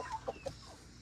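A few short clucks from a Rhode Island Red rooster in a backyard flock, fairly close, with quiet outdoor background and no speech.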